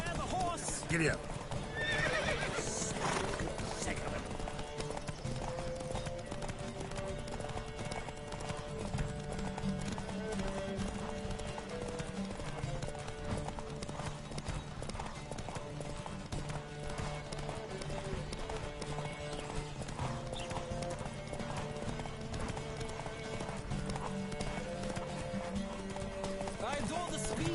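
Horses gallop with steady clip-clop hoofbeats and occasional whinnies during a race along Zerrikanian Bay in a video game, continuous and busy under background music and voices.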